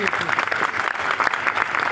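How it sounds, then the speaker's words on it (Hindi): A crowd applauds in welcome of a chief secretary at a public event in a village, with dense, continuous clapping throughout and voices mixed in beneath it. "आप लोग तालियों से अभिनंदन करते रहें, जोरदार तालियां।"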